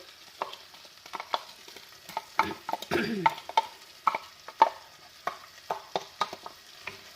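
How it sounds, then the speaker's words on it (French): Chopped onions in melted butter, stirred in a pan while making gizzards in sauce, give a steady gentle sizzle with repeated scraping and clicking strokes of the spoon, close and moderately loud, no voices. "j'ai fait fondre du beurre en cuisson. Je mets mes oignons."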